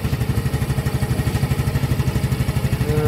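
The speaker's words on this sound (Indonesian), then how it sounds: "Kita akan coba tes nyalakan mesin si Mio Gear ini ya." A 2024 Yamaha Gear 125 scooter idles, its small single-cylinder engine giving a steady rapid putter of even pulses, loud and close with no talking over it.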